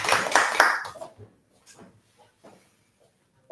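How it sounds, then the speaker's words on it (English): A Toastmasters club audience gives a short burst of applause for a member, dense clapping for about a second that thins to a few scattered claps and then quiet. "Big round of applause for Toastmaster Harsh."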